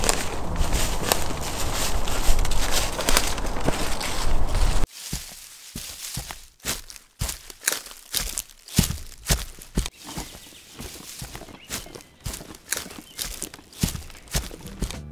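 Footsteps recorded in a DIY foley pit for a forest scene, a steady series of close crunchy steps on loose ground, following a few seconds of dense rustling texture.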